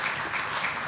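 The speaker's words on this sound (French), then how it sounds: "Je vous propose d'applaudir." A brief, dense wash of audience applause fills a conference hall at a Hilton during a hydrocarbon-sector forum, steady and close throughout.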